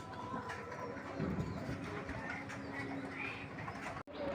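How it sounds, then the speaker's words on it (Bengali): A soft, low cooing from a dove repeats against a noisy background hum at a bird market, fairly close but gentle. "নটটা ডাকতেছে খুব সুন্দরভাবে।"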